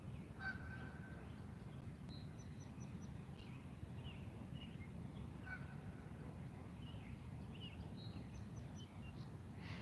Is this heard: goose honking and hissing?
yes